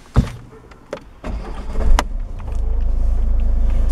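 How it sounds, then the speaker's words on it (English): A Ford car with automatic gearbox starting from a power start button: a few clicks and a thump, then the engine cranks and settles into a steady close idle hum. "Ford power start button."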